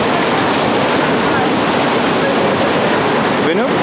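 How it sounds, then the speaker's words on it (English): Water from the fountain at the World War II Memorial in Washington DC rushes and splashes in a loud, steady wash that holds without a break from start to finish. "You may hear the sound of the water."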